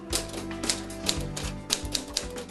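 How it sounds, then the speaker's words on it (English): Keys of a vintage mechanical typewriter clack in an uneven burst of strikes, close and crisp, with no voices. "vintage typewriters"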